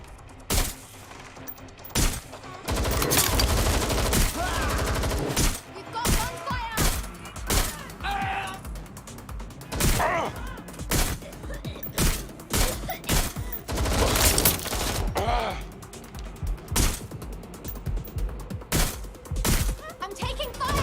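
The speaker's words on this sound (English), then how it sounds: "I'm taking fire here!" Dense gunfire in the video game Watch Dogs Legion: rapid bursts and sustained volleys of shots, loud and close, with thuds and a voice calling out over the shooting.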